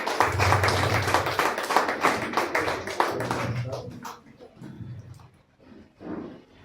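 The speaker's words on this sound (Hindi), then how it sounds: "एक बार जोरदार तालियां बजा दीजिए श्री नरेश साहू।" An audience claps loudly for an honoree at a workers' award ceremony, a dense burst of applause that gradually thins into scattered claps, with a voice speaking briefly as it fades.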